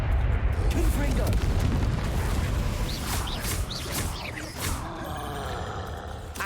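A Confringo fire spell blasts off in the video game Hogwarts Legacy, a loud, booming burst with deep rumbling low end. Sharp crackling bursts follow, and the blast decays over several seconds.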